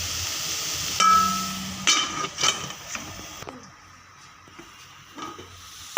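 Dill leaves and grated coconut are stirred in a pan, with intermittent scraping and clinking from a utensil over a soft sizzle that fades partway through.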